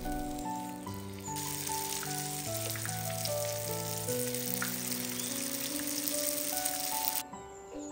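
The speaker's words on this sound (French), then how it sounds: "faire frire vos nems environ 3 minutes en retournant régulièrement" Spring rolls (nems) deep-fry in hot oil with a steady bright sizzle and crackle under sustained background music, the frying noise continuing evenly until it drops away near the end.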